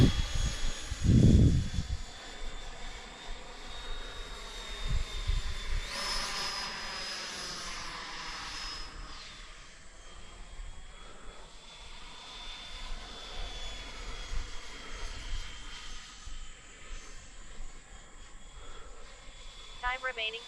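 An RC Intruder model airplane drones steadily overhead at roughly partial throttle, a faint continuous whine lasting throughout with a few louder bumps near the start.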